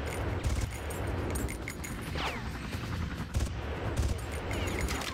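Gunfire in the Far Cry video game, dense rapid automatic bursts with sharp cracks and booms rolling on continuously, loud and close.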